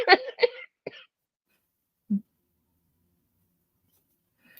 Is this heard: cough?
yes